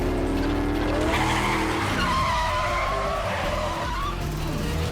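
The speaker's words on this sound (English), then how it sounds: "We are in these souped-up, American trucks." Souped-up American trucks skidding during a fuel heist: loud screeching tire squeals with shifting pitch over a roaring engine drone, continuous and close throughout.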